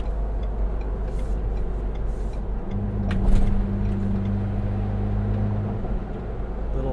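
A 2.7L V6 Ford Bronco with an MRT axle-back exhaust at steady cruise, giving a low continuous drone and a brief deeper exhaust tone under heavy wind and tire roar.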